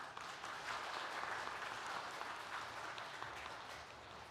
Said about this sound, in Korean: 한번 인사할 때 또 큰 박수로 격려해 주세요